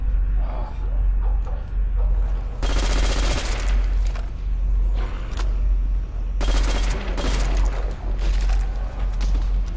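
Rapid bursts of MP40 submachine gun fire in the zombies video game Nacht der Untoten, two loud sustained volleys with scattered shots and booms between, over constant game background noise.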